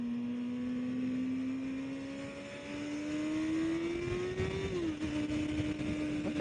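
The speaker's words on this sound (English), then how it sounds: "Like some kind of tour bus." A tour bus passes on a road, its engine drone climbing steadily in pitch, then dipping sharply as it goes by, heard over the steady rumble of a riding motorcycle.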